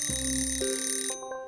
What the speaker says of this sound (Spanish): Si suena el despertador,